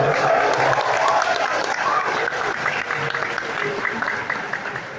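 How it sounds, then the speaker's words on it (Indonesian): A lecture audience breaks into loud, sustained clapping that fills the room and slowly fades, with a few voices in the crowd. "Kenapa tepuk tangan nih?"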